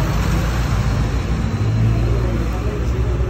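City buses and cars move along a street in Orizaba, Mexico, a loud continuous engine drone and low rumble of nearby traffic, with a voice speaking over it.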